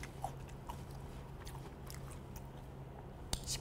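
Close, crisp bites and chewing on a crunchy fried pork cutlet dipped in curry sauce, a few distinct crunches over a steady low background hum.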